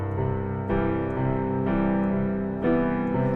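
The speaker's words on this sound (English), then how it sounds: "So the very first measure of the song sounds like this." Piano plays the opening measure of a song: a low sustained chord pattern, with a few fresh strikes roughly every second, close, full and alone without talk.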